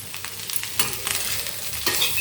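Potatoes fry in oil in a small pan over a high flame, with a loud, steady sizzle and a few scraping stirs. Nobody talks.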